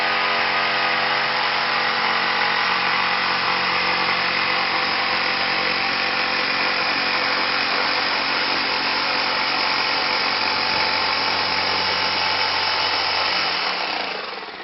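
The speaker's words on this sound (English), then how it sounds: "drill a pilot hole for your jigsaw blade and begin to cut" A jigsaw cuts a cutout through a laminate countertop from a drilled pilot hole, a loud, steady, close buzzing saw whine that runs unbroken and then tapers off at the very end.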